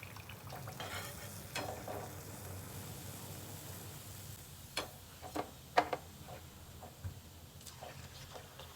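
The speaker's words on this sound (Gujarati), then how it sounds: "તો બધા તમને તળીને બતાવી દઉં બરાબર જો મસ્ત ગોલ્ડન બ્રાઉન થઈ ગયા" Snacks frying in hot oil until golden brown, a low steady sizzle with occasional sharp clicks and taps of a utensil against the pan, close and moderately quiet.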